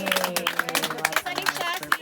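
Applause from a gathered audience at a Filipino group event, dense broadband clapping with cheering voices and chatter layered over it throughout.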